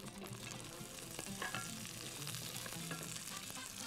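Near, continuous sizzle of food frying in a pan, with scattered light scraping knocks as it is stirred, no voices.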